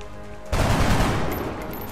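Gunfire in the video game XCOM Enemy Unknown: a sudden loud burst of rapid shots breaks in after a quiet moment, then rings out and slowly decays.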